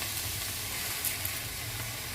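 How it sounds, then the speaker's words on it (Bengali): Spinach leaves tossed into hot oil in a pan, frying with a soft, continuous close sizzle and faint crackle, no voices. "এবার পালং শাকগুলো এর মধ্যে দিয়ে দিলাম।"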